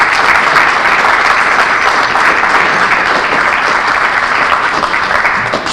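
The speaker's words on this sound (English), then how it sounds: "I want to give them a round of applause" Steady, loud applause from an audience at a community emergency response team graduation ceremony, dense clapping that holds evenly throughout with no speech over it.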